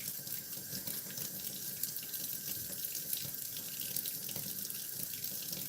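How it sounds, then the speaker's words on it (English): Water runs from a tap into a sink, filling it with a steady, gentle splashing rush that stays even throughout, fairly quiet and alone. "Let's fill this sink up with some water."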